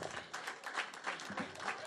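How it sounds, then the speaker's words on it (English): An audience applauds Dick Gregory in a warm, steady round of clapping, dense and continuous from a sizable crowd, heard close with a voice faintly over it. "Let's give Dick a very warm round of applause."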